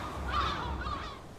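Seagulls give a couple of short, harsh honking cries over the sea, clear and fairly close, with no other sounds around them.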